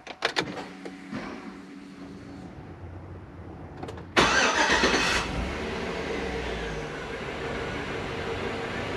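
Clicks and a whirring starter precede a 5.3 LS V8 engine in a 1958 Chevrolet Apache truck roaring to life, then settling into a steady, rumbling idle, close by.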